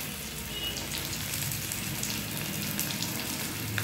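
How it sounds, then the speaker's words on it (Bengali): Potatoes fry in hot oil with turmeric for a vegetarian aloo dum, giving a dense, steady crackling sizzle that runs unbroken throughout, close and fairly quiet, with no voices. "হলুদ দিয়ে এবার ভেজে তুলব।"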